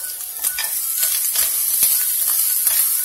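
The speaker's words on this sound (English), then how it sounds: "I'm going to dump that in the skillet." Sloppy joe meat sizzles loudly in a hot skillet, a bright continuous crackle broken by the scrape and clatter of a spoon stirring, close up and with nobody speaking.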